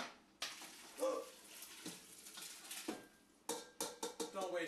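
Cooked collard greens and their water dumped from one container into a pot, giving a wet sloshing pour with clanks of cookware, then a run of sharp knocks and clatters near the end.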